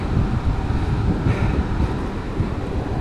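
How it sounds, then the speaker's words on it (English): Gusty coastal wind near St Michael's Mount buffets the microphone in a continuous low rumbling roar, steady and fairly loud with no voices. "I tell you, it's a bit windy down here though today."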